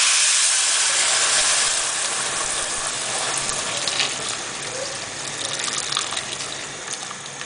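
A steady, broad rush of water gushing and splashing into a cooking pot of bay leaves for Botswana seswaa, loud and continuous with a slight surge near the end.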